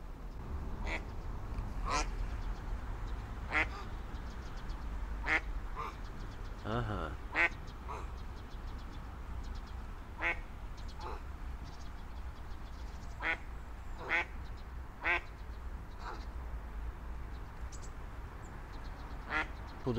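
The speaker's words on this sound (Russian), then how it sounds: "Уточка прилетела, Леха, да." A duck that has landed near people quacks repeatedly, with sharp, fairly close calls spread irregularly across a steady background hum.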